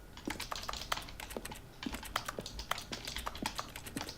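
Computer keyboard typing in The Stanley Parable Ultra Deluxe video game, rapid irregular clicky keystrokes close up and fairly loud, with no voices.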